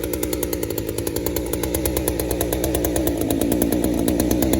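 A small engine idling out of spec at too high a speed, a loud, close, rapid buzzing putter with a regular pulsing beat that holds steady throughout, with no talking.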